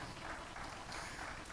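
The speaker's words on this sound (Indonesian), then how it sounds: "Ya, tepuk tangan buat semua" A church congregation at a year-end service applauds together, a dense, steady wash of clapping that fills the brief moment.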